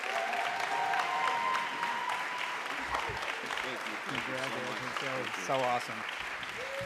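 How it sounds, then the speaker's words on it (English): A school audience claps steadily for an award-winning team at a champion awards ceremony, applause filling the room throughout while a voice speaks over it in the latter half. "please give a round of applause for the whole team"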